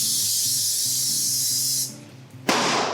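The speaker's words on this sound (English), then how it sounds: "I have a mini muffin pan, and I'm gonna spray it with a little bit of baking spray." Baking spray hisses from an aerosol can onto a mini muffin pan in a long steady burst, a short pause, then a second sharp spray, close and loud.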